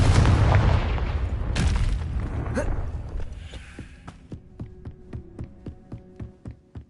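A Confringo blast spell explodes in Hogwarts Legacy, a loud booming burst that rumbles and fades, followed by a quieter run of regular rhythmic thumps.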